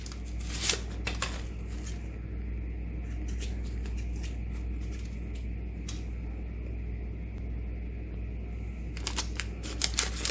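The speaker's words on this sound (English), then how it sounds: "And I cut the strings off." Scissors snip the strings off mint tea bags, a few short crisp cuts and light crinkling close by over a steady low hum, with no voices.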